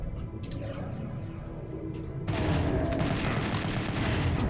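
A spider mastermind's chaingun in a Doom game mod opens up partway through as a dense, continuous roar of rapid gunfire, loud and steady after a quieter rumbling lead-in.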